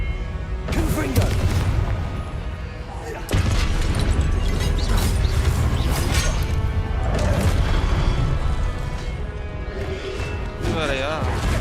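Booming blasts and crashing impacts from the Confringo spell in Hogwarts Legacy, loud repeated explosions over game effects, with a voice speaking throughout.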